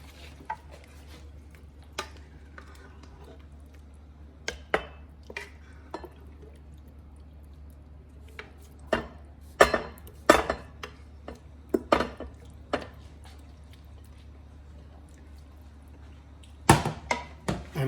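Chicken liver with salt being served onto a plate in a kitchen: scattered sharp clinks of a utensil against a dish, a few louder taps in clusters, close and clear over a low steady hum.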